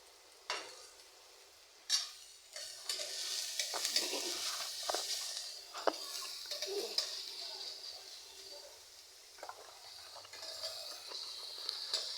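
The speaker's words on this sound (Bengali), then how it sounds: "এই তো পেঁয়াজটা একটু ভেজে নেওয়ার পর কাঁচামরিচ দেওয়া হলো" Onion fries in a pan for a Bengali dish, with a bright, airy sizzle running under repeated scrapes and clinks of a spoon stirring against the metal, fairly close and moderately quiet.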